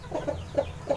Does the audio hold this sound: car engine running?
no